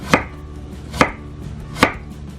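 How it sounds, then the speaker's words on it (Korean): A knife slicing radish thinly on a cutting board, three crisp, distinct chops spaced roughly a second apart, close and clear with no talking. "그러니까 얇게 썰어서 넣어주세요."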